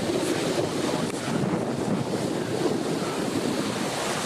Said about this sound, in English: I'm seeing there a beautiful beach here called Dorothy